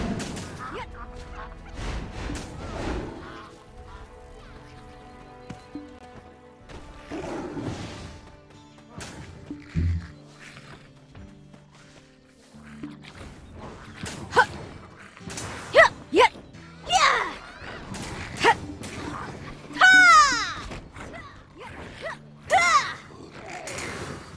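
Birds in the MMORPG Black Desert squawk and gobble amid sharp combat crashes and whip-like hits, over steady in-game music, with a brief voice at one point.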